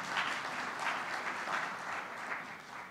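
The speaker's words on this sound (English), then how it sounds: "Please clap for the President for being with us." Attendees at a high-level Kenyan manufacturing meeting applaud the President, a soft, distant patter of clapping that swells and eases in slow waves throughout.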